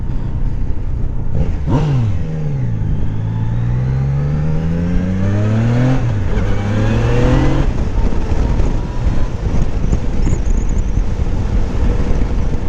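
A 2019 Yamaha Niken three-wheel motorcycle on a test ride, its engine revving up through several rising pulls with gear changes between, loud and close over steady wind rush.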